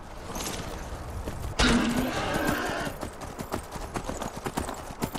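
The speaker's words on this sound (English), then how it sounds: "Let's grab my horse." A horse in Skyrim clip-clops along and whinnies, with a loud burst of hoofbeats and a neigh partway through, then steady, rhythmic hoof falls continuing to the end.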